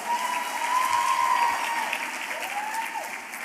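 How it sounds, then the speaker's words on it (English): Audience applause at an arangetram dance recital, a broad crackle of many hands swelling and then gradually easing, with faint tonal sounds over it. "Let's give them another round of applause."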